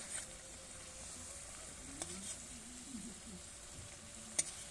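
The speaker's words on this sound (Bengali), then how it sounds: "গ্রেভিটাকে একটু ফোটানোর পরে দিয়ে দেবো ভেজে রাখা মাছগুলো দিয়ে একটু ফুটিয়ে নেব" Gravy with fried pangas fish simmers in a pan, giving a faint, steady bubbling sizzle with a couple of small clinks, no talking.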